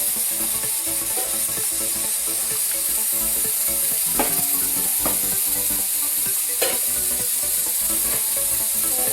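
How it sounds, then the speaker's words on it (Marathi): Onions and a bay leaf fry in hot oil for mutton biryani, making a loud, continuous close sizzle with scraping stirring sounds and a couple of sharp utensil clicks, and no talking. "तेल गरम झालेलं आहे. कांदे टाकून घेते मी, आणि हा तेजपत्ता"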